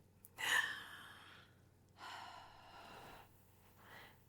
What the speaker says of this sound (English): take a deep breath with me by bringing your hand to your heart first, and then go ahead and breathe.